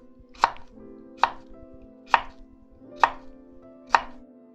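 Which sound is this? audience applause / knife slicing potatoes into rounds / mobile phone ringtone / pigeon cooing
knife slicing potatoes into rounds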